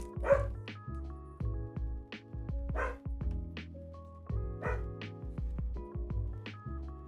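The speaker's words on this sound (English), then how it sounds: "I have a Samoyed and a Case Hunt. And they're both relatively barky." Dogs, one a Samoyed, barking indoors in repeated sharp bursts with yips and whimpers between, fairly close and loud, over a steady background tone.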